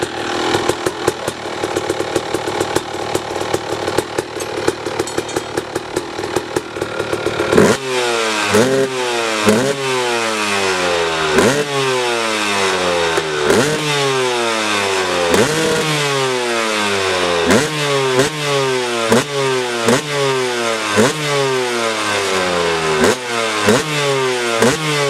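A Suzuki RM 250 two-stroke dirt bike fitted with a Bills Works MX2 pipe and V-Force reeds rattles and sputters at first, then revs in repeated sharp rising bursts for about seventeen seconds, loud and close with no talking.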